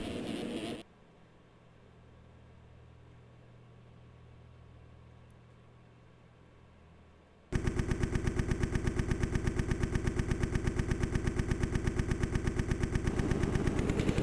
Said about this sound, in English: These guys are getting them bikes revved up and ready to go.